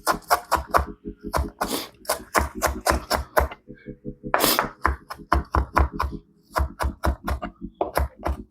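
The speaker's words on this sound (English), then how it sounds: "I'm gonna go ahead and chop up this parsley." A knife chops fresh parsley on a cutting board for saltfish buljol: quick, sharp, close taps in a brisk, fairly even rhythm, with a couple of short pauses between bursts of strokes.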